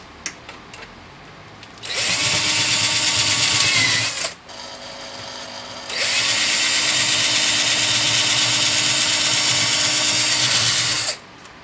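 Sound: power drill drilling out a rivet

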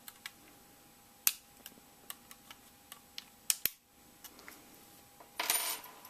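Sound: screwdriver undoing small screws on a PS3 hard drive cradle

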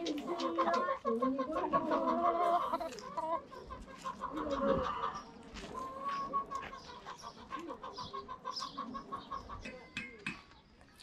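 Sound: chickens clucking on a farm

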